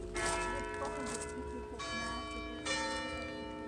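Church bells in a British village ring in several overlapping peals, clear and resonant, with long ringing tones hanging between strikes.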